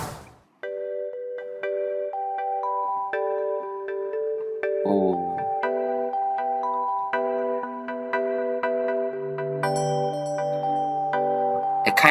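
A new smartphone ringtone plays a bright, melodic sequence of chiming synth notes for about eleven seconds, with a deeper sustained tone joining toward the end and a brief voice exclamation near the start.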